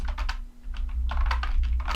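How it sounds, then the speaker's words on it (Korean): Rapid clacking keystrokes on an N-ntus wireless membrane keyboard, close up, with a rattly, plasticky clatter in quick irregular bursts over a low steady hum. "이 소리가, 와, 이게 멤브레인 맞나 싶을 정도로 소리가 너무 달그락달그락."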